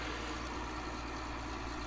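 A tractor engine idles steadily in Farming Simulator 19, a continuous low mechanical hum and rumble at moderate, even level with no talking.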